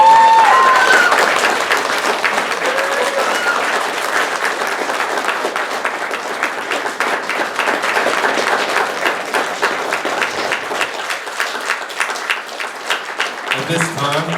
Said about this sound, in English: You guys can cheer.